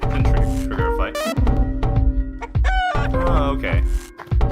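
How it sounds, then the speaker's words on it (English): Chicken clucking and crowing in the video game LISA, a few loud, close bursts of fowl calls separated by short gaps, with faint game music underneath. "That bird is for recruiting a character who likes chickens."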